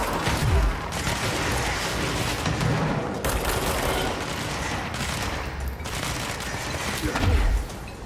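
Bursts of gunfire and booming shots from the action video game Control, rapid volleys with heavy low thuds repeating throughout, loud and close over a dense game soundscape.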